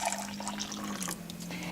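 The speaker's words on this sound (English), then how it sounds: "So now we're just gonna go ahead and pour the warm milk," Warm milk poured in a home kitchen, a steady liquid stream trickling and filling with a low resonant tone, close and fairly quiet.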